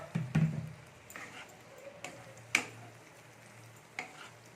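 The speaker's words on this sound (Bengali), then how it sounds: "দিয়ে মশলাটা একটু ভালো করে আমি কষে নেবো" A spiced masala with tomatoes being stirred and fried in a pan while cooking carrot with prawns, with faint scattered clicks and scrapes of stirring over a low, quiet sizzle.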